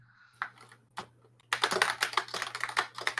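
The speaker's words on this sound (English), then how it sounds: "I hear you typing." Computer keyboard typing heard up close, a few scattered keystrokes at first, then a dense, fast run of clicking that lasts to the end, with a steady low hum underneath.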